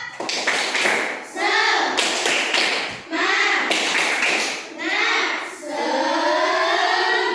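Schoolchildren in a classroom do a patterned cheer clap, crisp group claps in rhythmic clusters alternating with loud, sustained chanting in unison, near and energetic.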